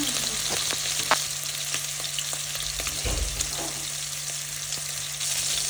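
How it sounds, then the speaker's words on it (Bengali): Beef steak frying in hot oil in a home pan, a loud, steady sizzle and crackle close up, with a few sharp spits and a brief scraping thump partway through. "তেল ঠিকমতো গরম হলে যে একটা সুন্দর আওয়াজ আসে"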